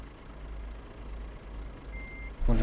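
A truck in Euro Truck Simulator 2 reverses, sounding a steady low engine drone as a reversing beep begins near the end, followed by a sudden louder mechanical burst.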